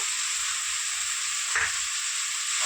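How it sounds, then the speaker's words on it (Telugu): Chopped vegetables and a small tomato with salt sizzle steadily in a hot pan for a vegetable Maggi, a constant close frying hiss with one brief stirring scrape in the middle. "ఇప్పుడు బాగా ఫ్రై అవుతుంది."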